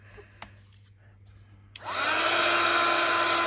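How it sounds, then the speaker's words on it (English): After a couple of faint clicks in near silence, a heat gun switches on and blows a loud, steady, airy roar that continues to the end. "there's my heat gun"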